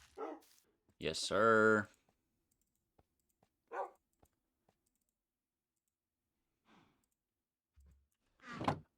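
A dog in the video game Minecraft gives a short bark, followed later by a few faint clicks. Someone speaks briefly, and long quiet gaps separate the sounds.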